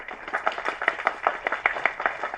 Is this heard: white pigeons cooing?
no